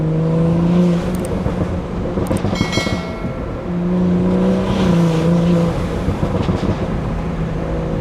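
A 500HP BMW 340 driving along a back road in Maine gives a loud, close, continuous intake and exhaust drone that swells and eases as the revs change, with no voices.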